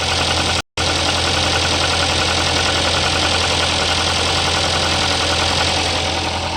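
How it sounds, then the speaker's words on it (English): Engine of a Kia or Hyundai compact SUV idling close by, a steady running drone with a fine, rapid ticking from the upper section of the engine, heard alone and continuous apart from a brief dropout near the start. "this one has a ticking noise from the upper section of the engine"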